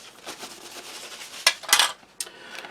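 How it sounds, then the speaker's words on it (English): A spoon is rinsed during cooking, giving a few light clinks and brief splashy bursts against a dish, with short sharp metallic taps near the end. "Just rinse my spoon there."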